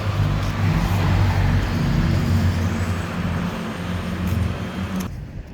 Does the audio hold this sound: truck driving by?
yes